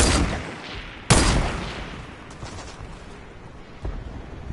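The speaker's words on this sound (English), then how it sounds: "it's that guy's been shooting at me" Gunfire from another player in Fortnite: two sharp, loud shots cracking a second apart, then fainter scattered shots and a closer report near the end, each trailing off into a fading echo.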